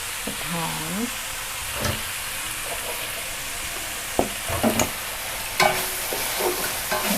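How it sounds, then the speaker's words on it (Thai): Shiitake mushrooms being stir-fried in a pan for a spring roll filling give a loud, continuous sizzle, with occasional scrapes and clacks from the stirring utensil and a brief bit of voice near the start. "เสร็จแล้วคุณตั๊กก็จะเอาเห็ดหอมลงผัดนะคะ"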